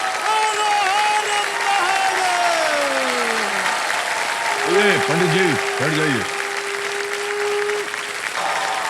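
Studio audience applauding steadily on the KBC game show, a dense, even wash of clapping lasting throughout, with a voice speaking over it and brief musical tones rising partway through.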